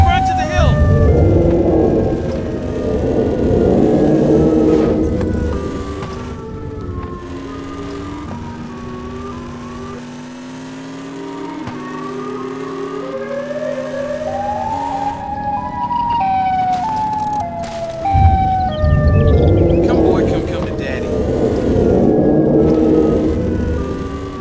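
A Siren Head monster in an island video game lets out long, loud wailing siren tones that rise and fall across the whole stretch, swelling strongly at the start and end over a dense rumbling background.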